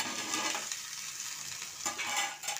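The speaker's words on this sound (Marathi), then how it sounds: "आणि अलगद भानवले तव्यामध्ये सोडायचे" Cabbage fritters (bhanavale) sizzle in a lightly oiled pan, a close steady crackling hiss that swells and fades with bursts of stronger frying, no voices.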